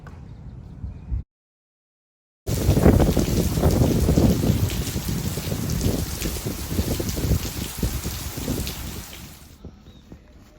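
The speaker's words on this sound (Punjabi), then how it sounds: "ਮੀਂਹ ਨਾ ਰੁਕਣ ਦਾ ਨਾਮ ਨਹੀਂ ਲੈ ਰਿਹਾ ਹੈਗਾ ਲਗਾਤਾਰ ਇਹ ਮੀਂਹ ਪੈ ਰਿਹਾ ਹੈ" Heavy rain pours steadily in a dense, hissing roar after a brief gap of silence, continuing unbroken for several seconds.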